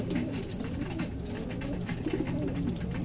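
Red bar pigeons coo steadily in low, throaty rolls at night, several birds overlapping close by, with a constant soft background hum.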